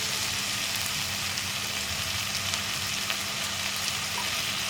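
Potatoes and onions fry in a pan for a Kerala-style beef curry, giving a steady, dense, close sizzle that holds evenly throughout with no talking.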